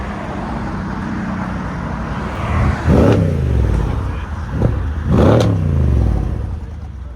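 A Mercedes CLS 63 AMG fitted with an aftermarket exhaust revs twice close by, each sharp rise to a loud roar falling back to a burbling idle, with a smaller blip in between.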